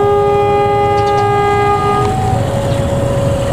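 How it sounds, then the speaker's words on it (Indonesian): An extra Pasundan train nears with a long, loud, sustained multi-tone horn, followed by a steady rumble of the train passing close by. "Sebentar lagi akan segera melintas kereta api Pasundan tambahan"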